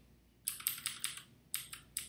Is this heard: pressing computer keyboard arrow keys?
yes